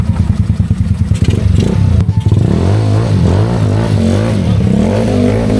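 A tuned Yamaha Mio Sporty scooter engine revs hard during a test run, loud and close, with a pulsing, choppy idle that climbs into a sustained high-rpm roar, its pitch rising and wavering with no one talking.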